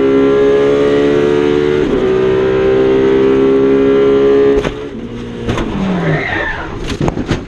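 Open-wheel race cars locking wheels and touching during a race: a loud sustained engine drone with steady harmonics holds for about four seconds, then breaks into skidding scrapes, thuds and a falling engine pitch.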